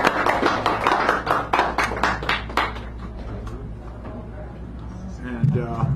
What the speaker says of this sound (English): give David a round of applause as he comes up here